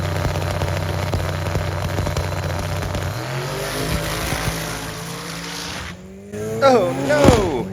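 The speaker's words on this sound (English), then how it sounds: "this little red car may seem small, but it pulls the wheelie about halfway down the track" A small red race car roars down a drag strip, its engine note steady and loud before cutting out, then rising again in a sweeping rev near the end.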